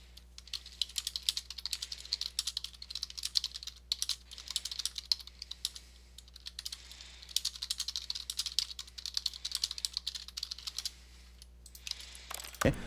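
Computer keyboard clatter as Stanley collapses in the video game The Stanley Parable, a quiet, steady rattle of keys pressed in irregular bursts over a low hum, followed by a sharp thump at the end.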